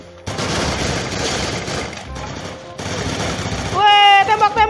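Rapid automatic bursts of XM8 rifle fire in the Free Fire video game rattle loud and close in two long volleys, followed by a game tone and a player's voice at the end.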